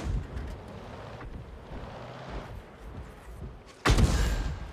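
A tank cannon fires in the game World of Tanks, one sudden loud boom near the end that rings out over a steady low rumble of engine and ambient battle noise.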